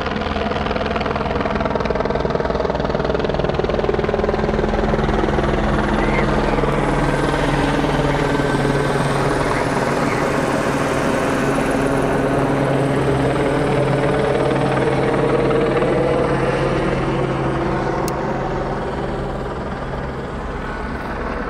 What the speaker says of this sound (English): there will be a helicopter overhead the entire time